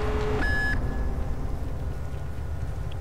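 Alarm siren in the Call of Duty: Black Ops video game, a steady electronic tone sounding briefly near the start and then cutting out, leaving a low game rumble underneath.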